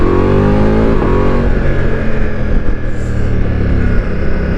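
Ducati Multistrada V4 motorcycle accelerating hard through gears with its quick shifter, a loud continuous engine roar climbing in pitch with brief dips at the shifts, heard up close with steady wind rush.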